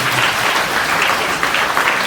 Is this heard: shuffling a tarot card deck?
no